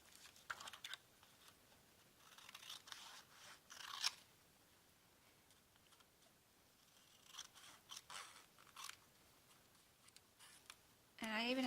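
Scissors snip paper while trimming pages for a junk journal, giving scattered crisp cuts in short clusters with quiet gaps between them, close and fairly faint.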